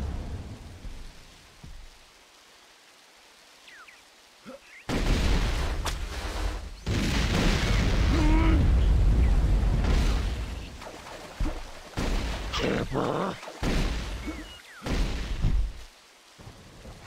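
Plasma rifle fire in a video game: loud, crackling bursts that start after a quiet opening and then come in repeated heavy volleys with short gaps between them.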